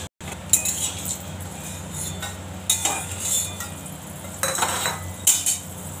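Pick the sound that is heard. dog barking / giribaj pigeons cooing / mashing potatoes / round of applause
mashing potatoes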